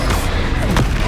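A short, heavy boom from the Bombarda explosion spell in Hogwarts Legacy bursts loudly and fills the whole brief moment.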